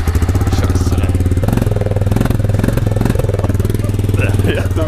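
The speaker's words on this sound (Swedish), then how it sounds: "Så vi har en fyrhjuling här borta." A quad bike (ATV) engine runs steadily on a farm, a loud, close, continuous motorized drone with a rough, throbbing pulse that keeps going under people talking.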